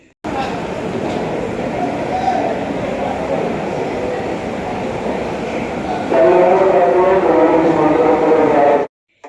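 Trains rumble through Sealdah railway station in a continuous roar that grows louder partway through, with a person speaking over the noise before it cuts off.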